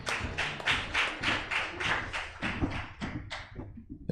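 A crowd claps steadily for a few seconds at an arbitration symposium, a dense patter of many hands that thins out and fades near the end.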